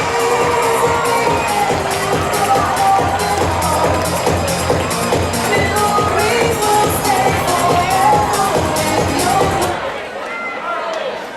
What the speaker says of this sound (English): Keep the applause going for our stars.